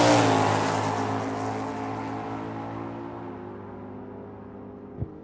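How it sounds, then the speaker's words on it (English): A 2021 Hellcat launches at a drag strip, a loud roaring engine burst at the start that fades steadily as the car pulls away, followed by a faint thump near the end. "Benjamin Marquez coming out of Wilcox in that Hellcat"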